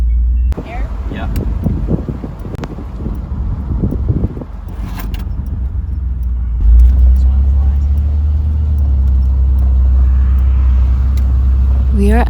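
A car drives along a road with a low, steady engine and road rumble under wind buffeting on the microphone; the engine swells louder partway through and holds to the end, with someone talking quietly early on.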